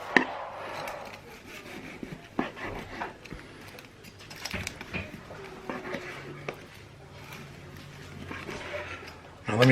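Knife slicing through hot corned beef against the grain on a board, soft scraping and tapping cuts scattered over several seconds, with a person talking throughout.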